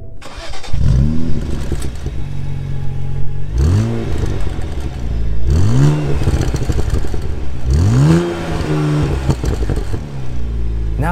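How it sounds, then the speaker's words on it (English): A 2012 BMW Z4 sDrive35is roadster with a standard dual exhaust revs hard, close up and loud, in four or five rising blips, each swelling and falling back to idle. "Dual exhaust is standard and it sounds like this."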